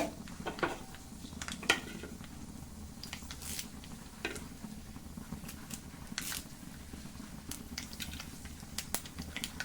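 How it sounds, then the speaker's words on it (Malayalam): Mustard seeds splutter and pop in hot oil in a home kitchen pan, irregular sharp crackles scattered over a low continuous sizzle, close by with no talking. "കടുകൊക്കെ ഇതാ പൊട്ടിക്കൊണ്ടിരിക്കുവാണേ."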